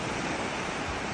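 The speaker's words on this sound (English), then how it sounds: "The waves aren't too big." Gentle ocean waves wash steadily onto a beach at Sabang, Palawan in the Philippines, a continuous close hiss of surf with no breaks.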